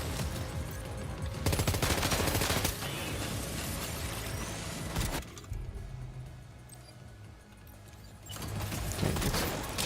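Enemy gunfire in Death Stranding 2, sustained bursts of rapid shots and clattering fusillade rising and falling over about ten seconds, loud and close with no talking.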